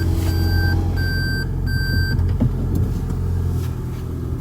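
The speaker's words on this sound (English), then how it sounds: "it kicked the gas engine in immediately" A Toyota Prius gas engine starts and runs in extreme cold, a steady low rumble and hum close by, with a series of short electronic beeps in the first two seconds.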